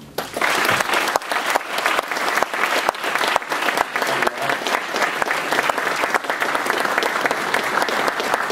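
Sustained, loud audience applause greets Herman Cain at Virginia Tech, dense steady clapping from a large crowd filling a hall for the full stretch with no pauses.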